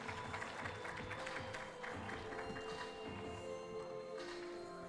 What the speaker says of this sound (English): a round of applause for our guest of honor and the team of ERTC